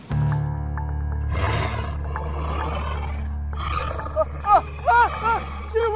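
Deep, rumbling roar of a wolf demon, loud and close, followed by growling grunts and rising snarls in a tense, quiet house setting.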